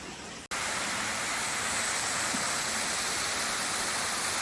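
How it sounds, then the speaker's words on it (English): Craigie Linn waterfall in Glen Park, a dense, steady roar of falling water, loud and unbroken after a brief cut near the start. "ये waterfall है"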